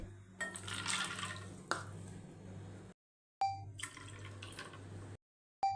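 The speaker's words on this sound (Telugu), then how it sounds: "వాష్ చేసుకున్న దాంట్లోకి 2 కప్పుల నీళ్లు పోసి" Two cups of water poured over washed white chickpeas and onions, a close splashing pour in two bursts separated by short silences, with a low steady hum beneath.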